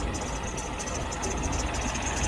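An XJ Jeep engine idles with a steady, dense mechanical hum and a whining rattle from a suspect adjustable pulley, continuous and close by, with no voices.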